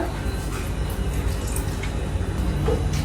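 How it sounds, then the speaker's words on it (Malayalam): Half a lemon squeezed by hand over a spiced chili powder mixture, giving soft squishing and dripping juice beneath a constant broadband background hiss, with no speech. "അപ്പൊ ഇതിലേക്ക് ഒരു ഹാഫ് ലെമൺ ഞാൻ ആഡ് ചെയ്ത് കൊടുക്കുവാണ്"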